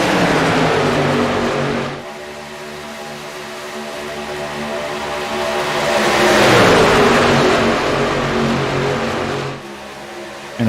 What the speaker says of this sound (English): I turned the trucks up where we could hear them better